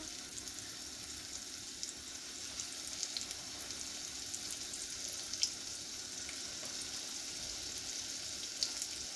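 Faint, even hiss of sunflower oil frying cheese pancakes (syrniki) in a pan, continuous throughout, with a few tiny pops; no voices.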